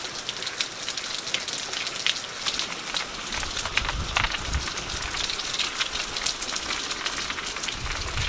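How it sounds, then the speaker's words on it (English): Heavy rain pours down steadily, a dense hiss of drops pattering on surfaces with a low rumble building partway through. "It's raining, it's pouring."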